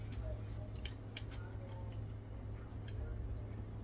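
Quiet, rapid ticking crunches as a knife or cutter slices through a low-carb, high-protein pizza crust, steady short cuts over a low background hum.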